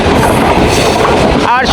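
The Bonolota Express, a nonstop intercity train, rumbles loudly and steadily along the rails, heard from on board with a dense clatter and a brief squeal near the end.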